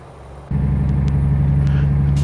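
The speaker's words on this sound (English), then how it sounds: "This engine sounds really good for a 450." The 450-horsepower truck engine in Euro Truck Simulator 2 comes in abruptly and holds a steady, deep droning rumble at constant revs, loud and up close, with a few faint clicks above it.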